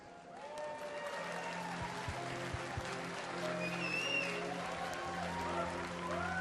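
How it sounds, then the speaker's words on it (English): An audience applauds at a BlizzCon panel in a large hall, steady clapping and cheering from a big crowd that holds throughout, with voices whooping and calling out across it. "Please give a round of applause to our panelists."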